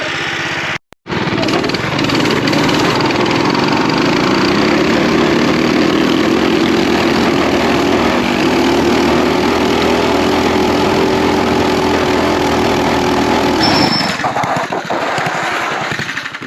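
Two mini bike engines, a Predator Ghost 212 and a stock Hisun with the governor bypassed, roar together in a drag race up a driveway, a loud sustained high revving buzz that starts abruptly and holds steady.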